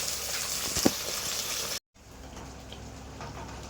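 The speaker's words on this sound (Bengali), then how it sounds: "চলো মাছটা ভাজা হোক।" Pieces of katla fish fry in a pan with a dense, steady hiss of hot oil, a brief cut to silence, then a quieter sizzle continuing.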